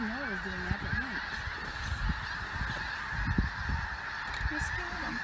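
A huge flock of snow geese, thousands of birds near Mount Vernon, Washington, honking at once: a dense, continuous chorus of overlapping calls with a few nearer honks standing out, plus occasional low bumps and rustle.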